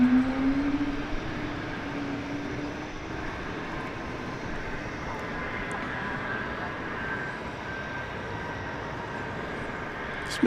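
An old Boeing 747, likely a former passenger jet converted to a freighter, rumbles steadily at DFW Airport, a continuous broad engine roar at moderate distance with no one speaking.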